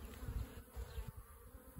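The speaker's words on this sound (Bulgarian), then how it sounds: "Пред входа пчели влизат, излизат, оплитат се някои" Honey bees buzz steadily in the sunshine at the entrance of a top bar hive where a swarm has just been settled, a close, continuous drone with irregular swells as bees fly in and out.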